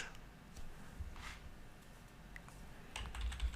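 Quick, light tapping on a computer keyboard as a web address is typed, a short run of soft clicks with small pauses, close and fairly quiet.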